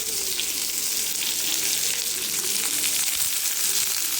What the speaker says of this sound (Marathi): कांदा टाकला आणि भाजायला.